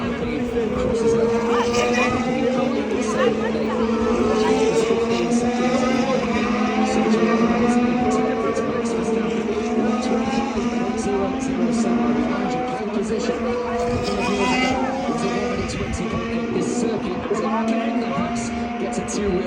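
Modern Formula 1 race cars circling a track, with one car drifting on two wheels: a steady, loud engine drone with passing engine tones layered over a roaring background for the whole stretch.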